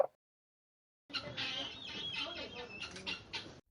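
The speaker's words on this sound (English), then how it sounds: "Cluck, cluck. 7 chickens pecking grains." Several chickens clucking and pecking at grain in a farmyard, a busy cluster of close clucks and scratchy bursts that follows a brief click and a second of silence.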